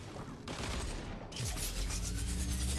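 A Zapotron energy weapon fires in Fortnite with a continuous loud crackling blast that cuts briefly, then returns with a rising whine and a deeper rumbling layer, close and with no talk.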